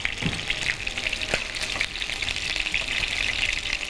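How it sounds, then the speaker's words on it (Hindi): Chicken pieces fry in hot oil, giving a continuous close sizzle with scattered sharp pops and crackles throughout, no talking. "गीला होगा तो फिर ये ऑयल जो है ना वो पॉप अप भी बहुत ज़्यादा करता है।"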